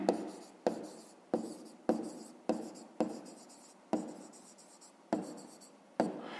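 A pen or pencil writes out a fifth-grade math answer on paper in a string of close, distinct scratchy strokes. About ten short bursts come at a steady rhythm. No one speaks.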